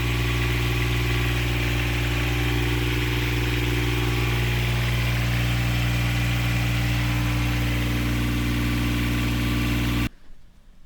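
A sailboat's diesel engine runs at a steady idle, a continuous low throbbing drone that cuts off abruptly near the end.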